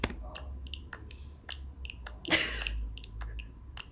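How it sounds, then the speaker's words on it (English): A snap clap drum sample plays in Logic, with crisp snappy hits sounding in an irregular rhythm, fairly quiet and close, with one brighter, longer burst partway through. "Snap clap."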